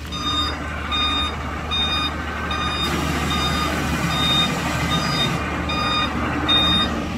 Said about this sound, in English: That is a really big forklift.